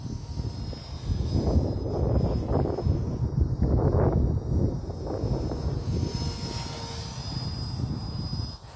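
RC helicopter, a Goosky RS4 Legend or Align T-Rex 450 flying outdoors in strong wind, gives a steady buzzing rotor and motor drone with gusty wind rumble throughout, loudest midway and easing slightly toward the end.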